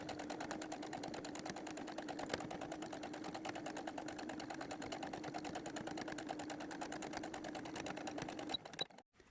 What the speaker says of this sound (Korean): 겉과 겉 마주보고 윗선만 먼저 박음질